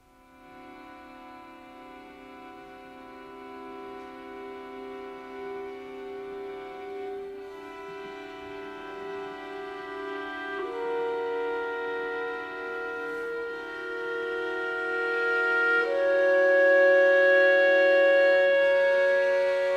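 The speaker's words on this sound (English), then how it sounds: "So you have the clarinet coming in almost from nothing." A clarinet in a contemporary chamber piece enters very softly from near silence, holding long sustained tones that slowly swell louder, with other instruments sustaining quietly beneath.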